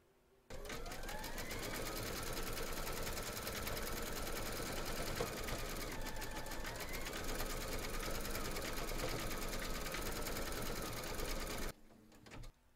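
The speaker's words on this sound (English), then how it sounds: "Load your thread colour for the black of the eyes into your machine and then stitch round number 7" An embroidery machine stitches a teddy's eyes in black thread, a continuous fast, loud mechanical whir that starts abruptly and stops near the end.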